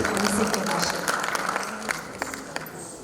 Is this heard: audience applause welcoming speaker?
yes